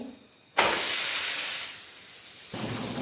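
Jowar and besan thalipeeth flatbread sizzles loudly on a hot pan, a close, broad hiss that flares up suddenly, eases gradually, then surges again near the end.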